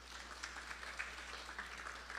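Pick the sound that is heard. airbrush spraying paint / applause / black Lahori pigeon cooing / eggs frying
applause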